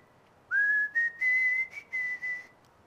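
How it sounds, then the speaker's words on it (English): A person whistles the opening phrase of a song, a clear, near melodic line of several held and short notes that slide slightly upward, heard alone over quiet background. "You've got a little whistle that's the beginning part."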